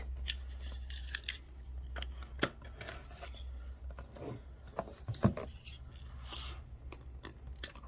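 Cardboard retail packaging for an IOGEAR wireless HDMI transmitter and receiver being handled and opened, with scattered crinkles, taps and short rustles spread over several seconds against a low steady hum, fairly quiet and close.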